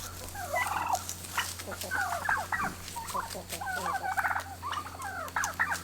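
Turkeys gobble in repeated rapid bursts, including a hen calling like a tom, fairly close, over a low steady hum, with scattered clicks and rustling between calls.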